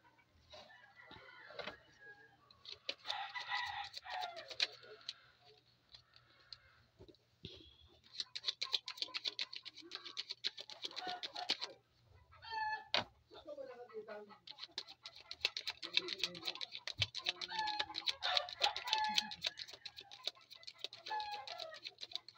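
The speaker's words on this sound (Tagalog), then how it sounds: "Ang dami manok." Many chickens cluck and a rooster crows off and on in the background of an indoor tarot reading, a busy, fairly steady barnyard chatter under a person's talking.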